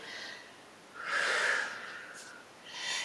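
A slow, audible exhale of breath during a seated wrist-stretching exercise, a soft airy rush swelling and fading, with lighter breaths before and after.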